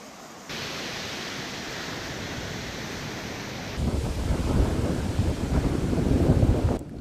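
Strong, steady wind roars at the coast amid rough, choppy seas, a loud continuous rushing with heavy buffeting against the microphone that grows stronger partway through.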